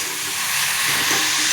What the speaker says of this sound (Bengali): এবার এটা একটু ভেজে নিই লাল লাল করে। পেঁয়াজটাকে টমেটোটাকে ভালো করে ভেজে নিতে হবে।